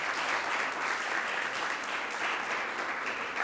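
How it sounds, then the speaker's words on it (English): Applause fills a hall at a migration story contest award ceremony: many people clapping together in a steady, dense, even roar that holds at full strength from start to finish without speech. "Let's give them all a round of applause."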